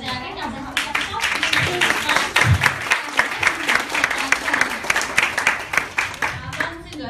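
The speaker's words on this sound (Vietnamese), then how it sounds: "Để cho các chị dành một tràng pháo tay thật lớn" An audience at a Nu Skin nutrition and skincare presentation breaks into sustained, dense applause that stays loud and even throughout, with a few voices mixed into the clapping.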